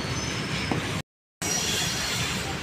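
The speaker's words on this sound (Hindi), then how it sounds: "ये मालगाड़ी जा रही है।" A freight train rolls past on a railway track, a continuous loud rumble of wagons with faint wheel squeal, broken by a brief moment of silence in the middle.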